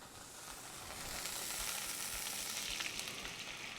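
Cream heats in a pan for Alfredo chicken, giving a soft, steady bubbling hiss that swells slightly midway and stays close but fairly quiet, with no voices over it.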